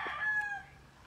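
A rooster crows once, a near, loud, drawn-out call with bright harmonics that tails off, with no talk over it.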